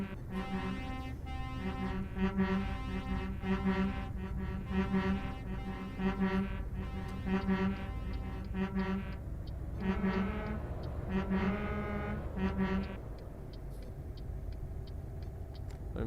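Deep, loud truck air horns blare in repeated long blasts in Euro Truck Simulator 2, over a constant engine rumble, with a brief lull near the end.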